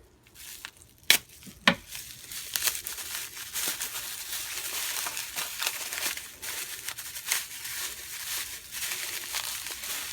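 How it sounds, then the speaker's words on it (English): Packaging on a traded knife parcel gets peeled back by hand, giving close, soft crinkling and crackling with a few sharper tearing bursts early on, then steadier rustling at moderate level, no talk. "Peel that back a little."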